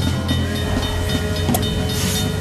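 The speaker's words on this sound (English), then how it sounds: "Why did I just hear a train?" Train rolling past in the video game Rec Rally, a dense continuous rumble with hissing and rhythmic rail clatter, loud and close throughout.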